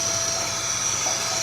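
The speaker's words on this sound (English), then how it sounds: "The great thing about this ash vac is you can get it all out of the corners and everywhere" Ash vacuum sucking ash out of an Ole Hickory smoker pit, a steady, close, loud whooshing drone throughout a brief moment with no talking.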